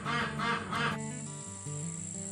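Domestic ducks penned with baby chicks give a brief run of quacking calls, loud and close at first, then fading into a steadier tonal murmur of birds.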